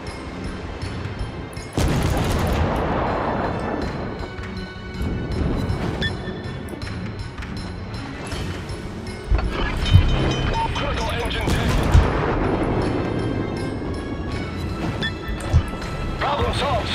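Destroyer naval guns fire in World of Warships, with booming blasts over a steady engine and water rumble, one heavy burst early and sharper reports later, mixed under voice chat.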